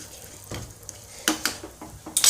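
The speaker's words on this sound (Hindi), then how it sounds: "देखिए अब इसमें डाल दिए जीरा। अब इस तड़के को ठीक से पका लेते हैं।" Cumin seeds tempering in hot oil in a pan, a soft sizzle with several sharp scrapes and clinks of a spoon against the pan, all close by.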